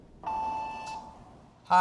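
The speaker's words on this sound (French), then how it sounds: "veuillez laisser un message après le bip sonore" A single steady electronic beep tone sounds briefly at moderate volume, followed by the start of a voice cutting in right after.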